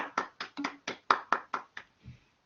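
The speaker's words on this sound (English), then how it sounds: "Please give a round of applause for the group." Ten or so separate claps at a group presentation, spaced at an even rhythm and slowing toward the end, close and moderately loud, more like one or two people than a full audience.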